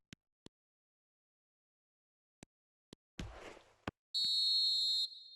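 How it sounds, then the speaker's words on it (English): A referee's whistle sounds in an eFootball match as a bright, steady, close blast lasting about a second, preceded by a few faint clicks and a brief noisy rustle. "Referee looks at his watch and blows his whistle."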